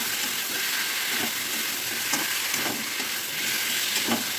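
Tomato with ginger, turmeric and chili powder sautés in a pan, giving a constant loud hiss of frying with faint, occasional stirring scrapes and no talking.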